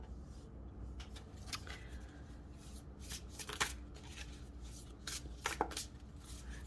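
Tarot cards being handled and shuffled close by, with soft flicking and sliding and a few sharper snaps, steady and fairly quiet.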